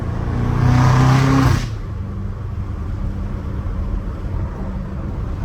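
A BMW M5 F90 Competition fitted with a full titanium exhaust and downpipes, heard from inside as a loud deep exhaust roar for over a second that drops to a steady low cruising rumble, with no talk.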